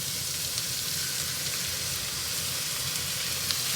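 Ginger garlic paste frying in oil with sliced big onions and curry leaves in a pan, giving a steady, even sizzle throughout with no talking.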